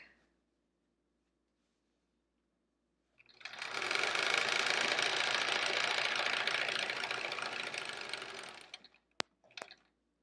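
A sewing machine stitches quilt pieces together in one steady, close, whirring run of about five seconds after a quiet start, then stops, followed by a couple of sharp clicks.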